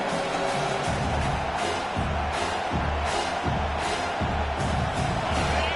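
A stadium crowd at a football game roars steadily for the defense on third down, a dense, sustained wall of cheering that stays loud throughout.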